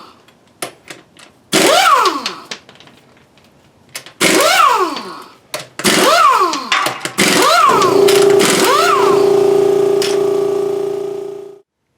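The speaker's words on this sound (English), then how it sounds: "So the air compressor kicked on for about the last two wheel nuts" An Ingersoll Rand 2135 Ti air impact wrench hammers off torqued wheel nuts on a 2010 Ford F-150 in several loud, rattling bursts, and a Makita MAC700 air compressor starts up and runs steadily through the final stretch.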